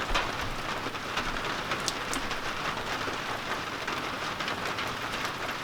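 Steady rain pours onto and around a porch, a dense continuous hiss with scattered nearby drips and patters, unbroken and fairly loud throughout.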